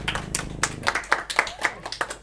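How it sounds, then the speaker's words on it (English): A small game show audience claps in uneven, sparse bursts at the end of a round, separate hand claps close by rather than a full roar. "Applause."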